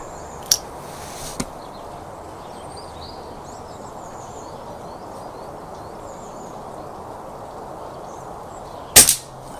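Sharp, brief shots from a Retay T20 air rifle with a multi-shot magazine: one crack near the start, a fainter tick shortly after, then a louder crack near the end over quiet outdoor background with faint birdsong.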